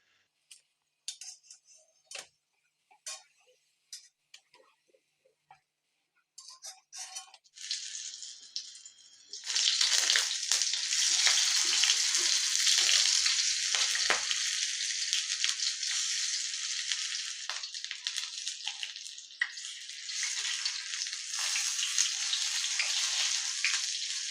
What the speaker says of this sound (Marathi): मी अशाच प्रकारे सगळ्या वड्या तळून घेणार आहे